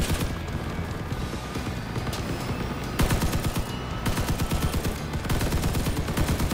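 Rapid bursts of MM5-4 Vector gunfire in the vehicle combat game Crossout, sharp repeated cracks in tight clusters over a dense background of engine and battle noise, growing louder in the second half.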